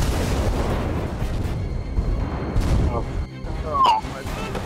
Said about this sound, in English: The fire's popping off all the ammo.